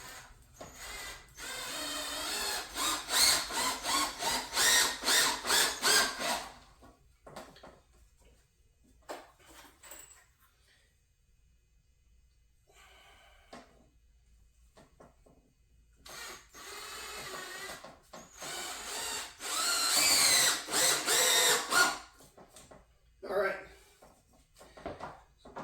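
A power drill drives Phillips head screws into an HO scale model train layout base, giving two long, loud whirring bursts split by a quiet stretch with a few short clicks and rattles.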